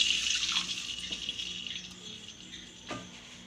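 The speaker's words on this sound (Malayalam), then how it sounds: "വെള്ളം ഒഴിച്ചു കൊടുക്കുക." Water poured from a glass into a pan while making vermicelli kesari, a faint splashing trickle that tapers off, with a small clink near the end.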